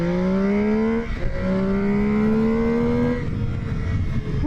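An MV Agusta Brutale 800 motorcycle, 110 horsepower, accelerating hard in sport mode with a quickshifter, engine note rising through two or three quick gear changes, loud and close.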